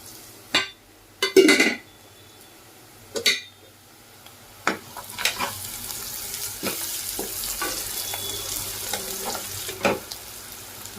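Onions fry in a pan for mutton head curry, a steady close sizzle broken by several sharp clinks and scrapes of a spoon against the pan, with no speech.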